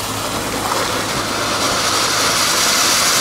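An Aldi firework fountain shoots sparks with a continuous loud hissing, crackling roar that stays steady and close for several seconds, no voices.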